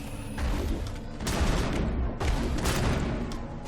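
Bursts of gunfire from the Mass Effect video game crackle in quick volleys, two heavy clusters of loud shots with booming low rumble, close and dense.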